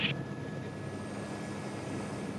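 A helicopter flies in extreme wind over the Baie des Trépassés in Brittany, heard as a steady, distant, broadband rumble and rush of rotor and wind noise with a faint high whine.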